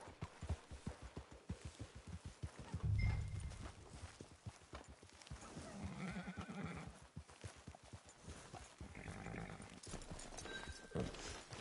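Steady clip-clop of horse hooves at a walking pace in a video game, fairly close, with a brief snort and faint game ambience in the background.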